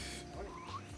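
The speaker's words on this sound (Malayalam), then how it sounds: "തവള തവള തവള." A frog croaks briefly out in the open in Munnar, a faint low call against steady outdoor background noise.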